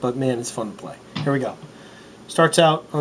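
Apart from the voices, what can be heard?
None of the usual background noises is heard.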